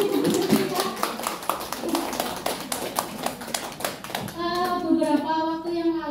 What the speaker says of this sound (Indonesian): Tepuk tangan buat Bapak dan Ibu Fatihah